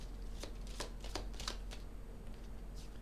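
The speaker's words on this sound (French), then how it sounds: "Je vais tirer que 2 cartes dans celui-ci." Tarot cards being shuffled: a handful of quick papery riffles and slaps spaced irregularly over a steady low hum, close and moderately loud, with no talking.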